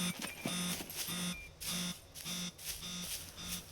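A cargo drop alarm sounds in the survival game SCUM, a faint, regular pulsing beep-and-buzz pattern repeating roughly every half second over quiet background.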